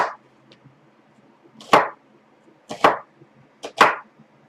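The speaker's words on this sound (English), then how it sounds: "And I like to add one onion in my mix. So, and I just kind of chop them thick." Knife chopping a thick-cut onion on a cutting board for garlic dill pickles, three loud close chops about a second apart after a few faint taps, in an otherwise quiet kitchen.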